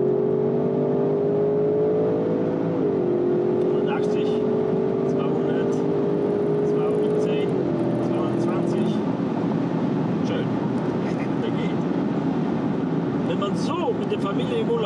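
An Audi RS6 accelerates hard on the road, its engine note rising steadily, dipping at gear changes and climbing again, loud and close inside the cabin with a continuous road roar beneath.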